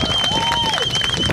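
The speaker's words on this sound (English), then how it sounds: "Round of applause for everybody so far." Crowd applause and cheering at a Highland Games tractor pull in the Peak District, a steady dense clatter of clapping running throughout, with an announcer's voice over it.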